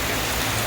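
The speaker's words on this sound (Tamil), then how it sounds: "மக்கள் பரபரப்பாக ஆங்காங்கே மழை வெள்ளத்தை கண்டு ரசிக்கின்றனர்" Heavy rain and flood water in a town, heard as a dense, loud, continuous rush of falling rain and running water with no pauses and no voices.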